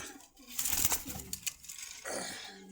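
Racing pigeons cooing at a busy pigeon market, soft close throaty coos mixed with light rustling and faint background market noise.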